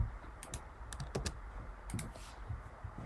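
Computer keyboard keys tapped while a connection ID is entered, a few quick clicks in short bursts against quiet room tone, close and clear.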